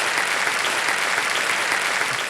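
Studio audience on the KBC quiz show claps loudly and continuously, a thick, even burst of applause filling the room with no letup.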